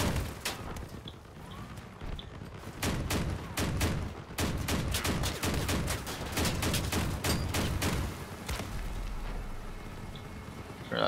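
Rapid volleys of broadside guns firing from a van build in the vehicle combat game Crossout, loud sharp shots in dense irregular bursts over a constant engine and battle din, with no talk.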